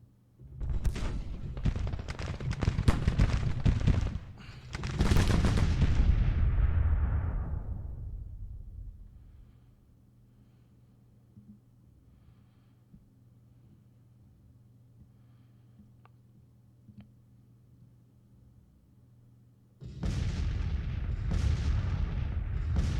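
Artillery guns firing in Grand Tactician Civil War. Two heavy, rumbling volleys of booms come at the start, then a long near-quiet stretch with faint ambience, and a third loud salvo near the end.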